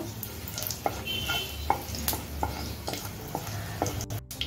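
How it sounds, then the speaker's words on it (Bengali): Whole dried red chilies and cumin seeds crackle and sizzle in hot oil with a steady hiss, punctuated by regular clinks and scrapes of a spoon stirring the pan. "এখন ফোড়নটা কিছুক্ষণ ভেজে নেব।"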